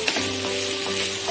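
Chili powder and coriander powder sizzling in hot oil in a pan for a plantain veg fish masala, a steady close crackling fry with a faint hum underneath, no voices.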